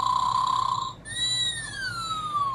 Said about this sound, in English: do I really need a bear pocketback holder that snores?